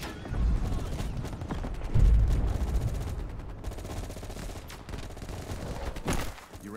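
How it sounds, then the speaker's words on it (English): Dense gunfire in a Call of Duty: Black Ops Cold War firefight, crash survivors fighting off a VC attack, with overlapping bursts and booms throughout and voices mixed in. "you woke up in the middle of a firefight"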